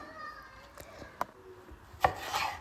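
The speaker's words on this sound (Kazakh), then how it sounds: "Бұрышымызды ыңғайлап ірі қылып турап аламыз." A knife coarsely chopping pepper on a board while preparing oven-baked lula kebab, giving a few quiet, irregular cutting taps close by with soft background noise.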